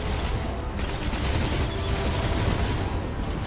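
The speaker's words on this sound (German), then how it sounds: "Das ist ein geiler Schuss." Dense, continuous gunfire and explosive rumble in the video game Destiny 2 Shadowkeep, a loud steady barrage without pauses.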